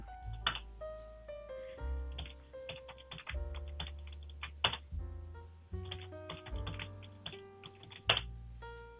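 Keys are tapped on a computer keyboard as a new password is entered in a virtual machine, giving quiet, irregular clicks in short bursts with brief pauses, close and alone without talk.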